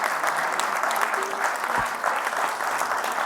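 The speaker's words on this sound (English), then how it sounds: "So please join me in giving our panelists a big round of applause." An audience at a panel discussion on rent regulation gives the panelists a big round of applause, dense, lively clapping at a steady level throughout, with no speech over it.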